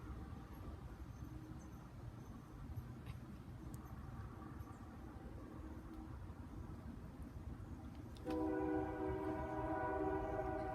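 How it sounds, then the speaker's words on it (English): A distant freight train passes near Columbia Falls, Montana, its faint rumble carrying for several seconds before a long, loud horn blast sounds through the last few seconds. "I can hear the second train going by over there"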